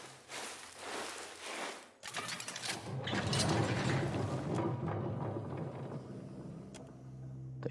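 A heavy copper crypt door mechanism unlocking in the video game Pillars of Eternity 2: Deadfire, with a clunk, then grinding gears and ratcheting clicks building into a long rumbling churn that slowly winds down.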